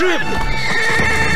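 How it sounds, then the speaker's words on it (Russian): Horse whinnies loudly in the video game GUN, a sharp descending neigh up front with hoof clip-clops following, while a voice briefly speaks over it. "Ох ты! Ничего себе у него лошадка!"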